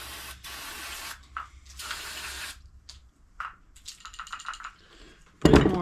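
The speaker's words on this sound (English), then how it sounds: "just a quick spray gets most of that gunk out of there" Short hissing bursts of spray cleaner on an older Polaris snowmobile carburetor, several separate blasts of varying length with small clicks and rattles between them and a louder clatter at the end.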